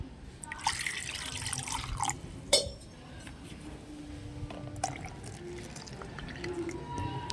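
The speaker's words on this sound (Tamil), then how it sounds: "கொஞ்சம் தண்ணி ஊற்றி கழுவி ஊற்றிடலாம்" Water splashes and trickles into a container being rinsed, with a few clinks and drips, close up against a low background hum.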